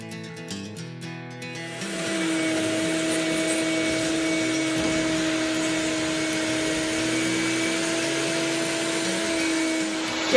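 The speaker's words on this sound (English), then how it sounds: "get the vacuum in here, sweep everything out" A vacuum cleaner runs steadily for about eight seconds while cleaning out the inside of a cargo trailer being converted into a camper. It starts after a brief clatter and holds a loud, even motor whine with a rushing airflow, and no voices are heard.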